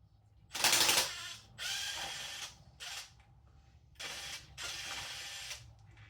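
Ratchet wrench loosening 14 mm bolts on the lower alternator bracket of a Toyota 7M-GTE engine during teardown. Several close, loud bursts of rapid clicking, each about a second long, separated by short pauses.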